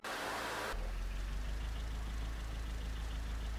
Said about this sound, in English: we're going to go ahead and start our engine